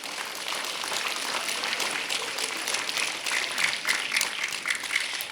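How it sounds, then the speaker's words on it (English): School children applaud at a ribbon cutting and open house for a new intermediate school building, a steady wash of many hands clapping at moderate distance, continuous and even throughout. "So give yourself a round of applause."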